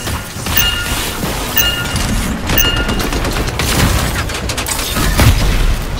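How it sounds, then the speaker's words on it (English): Explosive detonation inside a foundry in the video game Anthem: a sustained, loud roar of blasts and crackling debris rumbles continuously for several seconds, with sharp bright bursts near the start and a heavy low boom toward the end. "I think the explosion destabilized the foundry"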